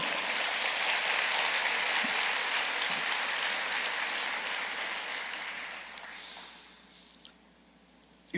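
Church congregation applauding the Lord after a sermon prompt, a dense roar of clapping from a large crowd that holds steady, then thins and fades out over the last few seconds.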